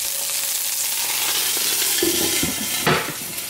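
Food sizzles steadily in a hot frying pan close by, with a few sharper pops and brief clinks of a utensil near the end, and no one speaking.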